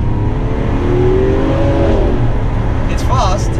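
Lamborghini Aventador SV accelerating hard, a loud, dense engine roar rising in pitch, heard from inside while someone talks over it.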